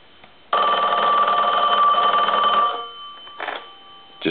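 A Western Electric 2514 telephone's bell rings loudly in one sustained burst, then gives a brief shorter ring after a pause.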